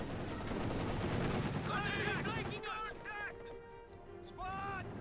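Machine gun fire from a Company of Heroes 2 battle, a dense rattling burst for the first few seconds with battlefield noise after and a voice talking over the later part.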